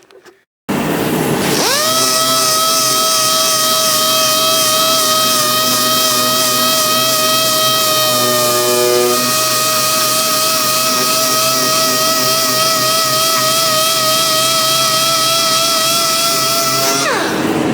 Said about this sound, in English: Let's turn it over and sand the other side.